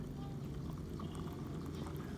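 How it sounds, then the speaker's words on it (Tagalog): Hot water is poured steadily into a container holding about five calamansi for a homemade dry-cough remedy, a continuous close splashing rush that stays even for the whole stretch. "Buhos ang ininit na tubig."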